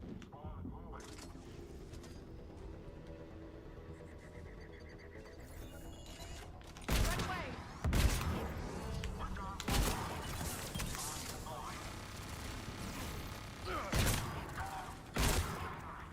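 Turret fire in the video game Mass Effect 3 comes as repeated sharp blasts and thuds over a busy combat backdrop, with a voice talking intermittently.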